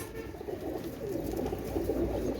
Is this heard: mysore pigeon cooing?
yes